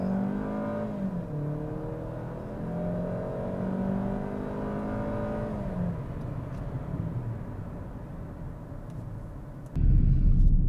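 A 2020 Kia Optima FE in sport mode pulls away from a standstill, its engine note rising steadily in pitch as it accelerates, then settling into a rougher, louder drone with road rumble near the end; no talking.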